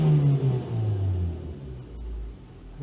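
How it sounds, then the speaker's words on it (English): Mazda 3 engine revving when the throttle is tapped, a close low engine tone that climbs and falls in brief swells, heard alone. "Let's tap the throttle and see if it changes."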